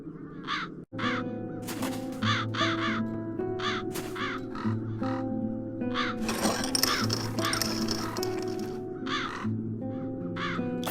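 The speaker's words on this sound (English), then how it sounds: "As long as the crows are wreaking havoc," Crows caw repeatedly in a video game, The Dark Eye: Chains of Satinav, with clear, evenly spaced calls over a steady musical backdrop and a brief burst of crashing noise midway.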